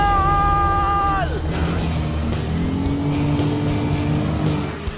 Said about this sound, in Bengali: 3টে গাড়ি গোল করে ঘুরছে। ও ওরা তো জলের মধ্যেই ড্রিফট করছে